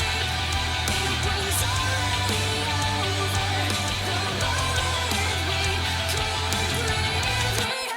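Dense metal song chorus mix with a MIDI-backed main melody and harmony, loud and continuous with heavy low end and wall-of-sound guitars, stopping abruptly at the end.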